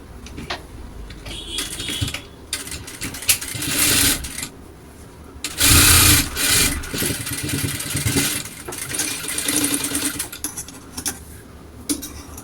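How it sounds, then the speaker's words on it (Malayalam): A sewing machine stitches the folded sides of a fabric strap in rapid mechanical bursts, with stop-start runs of clattering needle action and short pauses, close and fairly loud. "ഇതുപോലെ 2 സൈഡും ഞാൻ ഇതുപോലെ ഫോൾഡ് ചെയ്ത് കൊടുത്തിട്ട് സ്റ്റിച്ച് ചെയ്തെടുക്കുന്നുണ്ട്"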